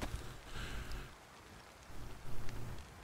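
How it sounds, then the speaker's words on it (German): Rain pouring during a thunderstorm in the survival game DayZ, a dense steady wash of falling rain with low rumbling swells, moderately loud with no talk. "Ach, jetzt gewittert's auch noch."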